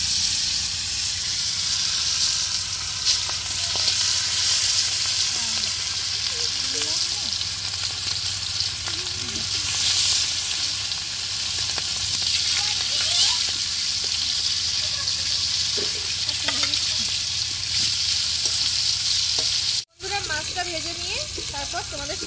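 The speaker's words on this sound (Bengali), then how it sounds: "তো মাছগুলো এবার ভেজে নেব।" Pieces of salted, turmeric-rubbed fish fry in oil over a lit stove, giving a steady, close, loud sizzle with crackling throughout and a brief dropout near the end; a voice speaks faintly now and then.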